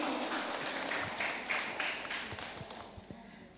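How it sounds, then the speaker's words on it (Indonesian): Scattered applause from an audience at a talk, a burst of clapping that thins out into a few separate claps toward the end. "Beri tepuk tangan untuk narasumber kita pada siang hari ini."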